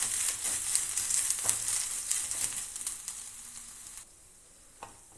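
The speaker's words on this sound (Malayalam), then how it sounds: "തേങ്ങ ഒരു നല്ല ഗോൾഡൻ ബ്രൗൺ നിറമാകുന്നത് വരെ ഒന്ന് ഫ്രൈ ചെയ്തെടുക്കാം." Grated coconut sizzles and fries in a pan toward golden brown for a Kerala pumpkin and bean erissery, a steady close hiss with occasional stirring scrapes that drops abruptly quieter near the end.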